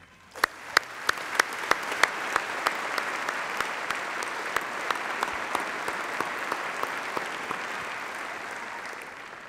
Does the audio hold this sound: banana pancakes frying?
no